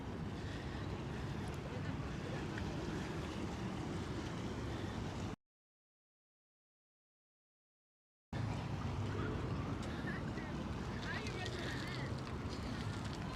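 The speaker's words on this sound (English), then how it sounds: "Waves are beautiful." Ocean waves wash steadily near Bensonhurst Park on the Brooklyn shore between Coney Island and Bay Ridge, a continuous broad surf roar with wind buffeting the microphone, interrupted by a few seconds of dropout midway.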